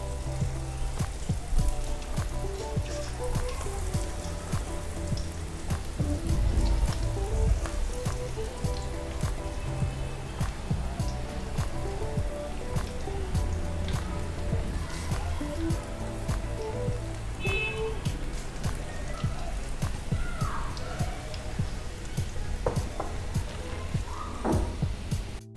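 Spinach and onion pakoras frying in hot oil, a dense, steady crackle and sizzle like rain that runs throughout, with occasional faint voices and kitchen noises underneath.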